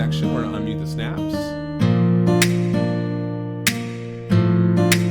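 In a Soundtrap recreation of a song, finger snaps are layered over an acoustic guitar track. Crisp clicks land at regular intervals over strummed chords that ring out, close and clear.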